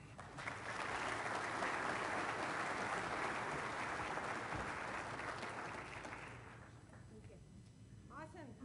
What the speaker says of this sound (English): So let's put our hands together for Dr. Delia Roberts.